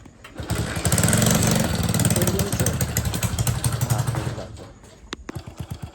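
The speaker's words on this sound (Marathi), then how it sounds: "आता आम्ही चाललोय मोटर बंद करायला रात्रीच्या 12 वाजता" Close, loud clattering of a motor-driven water pump running at night, rough and pulsing, then winding down into slower chugging knocks as it is switched off.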